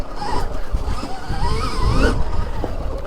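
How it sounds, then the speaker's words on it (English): The rear tire of a Stark Varg 80-horsepower electric motorcycle claws and scrabbles for grip under hard acceleration. A rising electric whine runs over a loud, continuous rush of dirt and tire noise, close and steady throughout. "you hear that tire just clawing."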